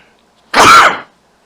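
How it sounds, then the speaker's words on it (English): A single sharp sneeze, close and loud, bursting out for about half a second between near-silent pauses. "excuse the sneeze."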